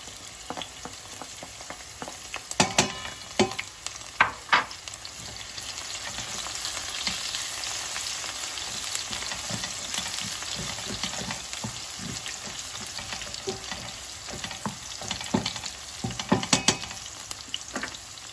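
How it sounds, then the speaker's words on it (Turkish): Steady sizzle of peppers frying in a hot pan, with occasional sharp crackles and pops from spattering oil, loud and close. "Biberini şimdi kızartacağım."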